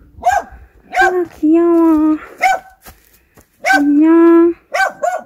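A dog barks and yips in bursts at close range on a countryside farm, with a voice speaking between and over the barks.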